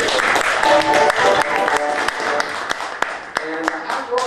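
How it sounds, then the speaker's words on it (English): Audience applause at a sword swallowing show, loud steady clapping from a close crowd with individual sharp claps standing out, continuous over a few seconds. "Applause for the lady. Let's hear it."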